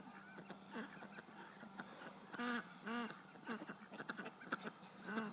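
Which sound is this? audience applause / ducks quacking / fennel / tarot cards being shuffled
ducks quacking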